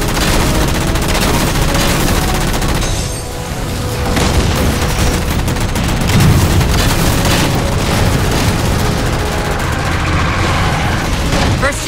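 Heavy gunfire in Halo 4 as players shoot down jammers, rapid continuous automatic fire mixed with booming blasts and mechanical clatter, loud and unrelenting throughout.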